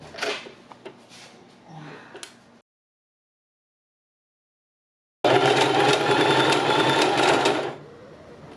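A sewing machine runs for about three seconds with a fast, steady mechanical whir and rattle, close and loud. It comes after a quieter stretch of handling noises and a pause of silence.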